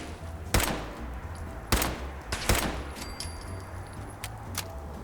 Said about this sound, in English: Laser rifles hit hard.